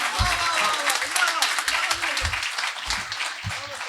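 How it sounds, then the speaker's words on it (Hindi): An audience at a kavi sammelan poetry event applauds steadily, a dense wash of clapping hands, with a voice speaking briefly underneath. "आपकी घनघोर जोरदार तालियों के बीच"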